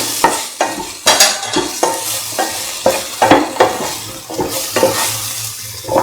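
Plantain rice sautéing in a pan, with a loud steady sizzle broken by repeated sharp scrapes and knocks of a spoon stirring against the pan.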